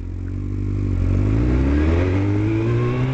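A motorcycle engine waiting at a traffic light runs loud and close, its low rumble rising steadily as it revs up and holds a higher pitch, with no talk over it.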